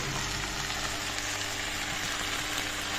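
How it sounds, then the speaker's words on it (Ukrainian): Meat sizzling in oil in a heated frying pan, a steady dense crackle and hiss running evenly close up throughout with no voices. "Так обсмажуємо м'ясо."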